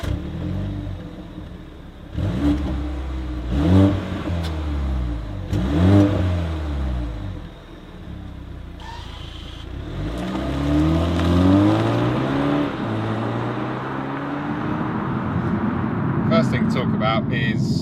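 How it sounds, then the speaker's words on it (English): A rear-wheel-drive BMW 220i Coupé is driven on the road, its engine repeatedly revving up and dropping back through gear changes, with a steady hum of road and cabin noise in between. "let's get this car out on the road and see what it's like to drive"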